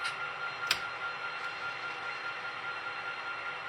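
Model train running on a KATY Central Texas Subdivision layout: a steady, low, continuous rolling rumble with a single sharp click early on, moderately quiet and without talk.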